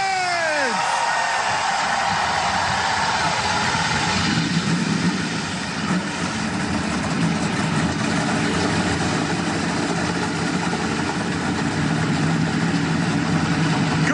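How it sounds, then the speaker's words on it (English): NASCAR race car engines roar to life at the 2018 Folds of Honor QuickTrip 500 and settle into a loud, rumbling idle that continues steadily, with crowd noise mixed in. "Drivers, start your engines!"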